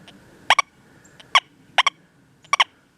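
A Deus 2 metal detector gives detection tones as it sweeps over a buried large-caliber bullet, sounding as four sharp double-chirp beeps at irregular intervals over near silence.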